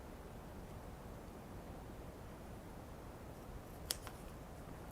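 Scissors cut through craft material for a witchy trick-or-treat bag, a faint continuous shearing hiss with a couple of sharp snips near the end, heard close and quiet.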